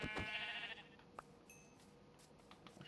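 Blocky Minecraft sheep give a single wavering bleat up front, followed by faint game ambience and a few soft clicks with no talking.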